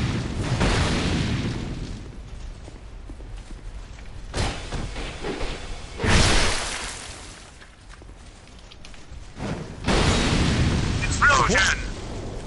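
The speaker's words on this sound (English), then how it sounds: "Explosion!" Several loud booming bursts from the dark fantasy video game Dark Souls II, each a sudden broad blast that fades, with a voice talking in between the impacts.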